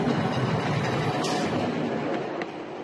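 The Balagne tramway, a Corsican X 97050 railcar running along the coast, gives a steady, loud rumble of wheels and motor throughout, with no voices.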